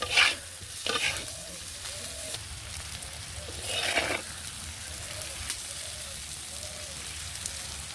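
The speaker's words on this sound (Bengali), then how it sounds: "কচুগুলো দিয়ে আরও কিছুক্ষণ ধরে কষিয়ে নেব" Fried taro pieces are stirred with spices in a hot pan, giving a steady close sizzle broken by a few scraping strokes of a spatula, with no voices over it.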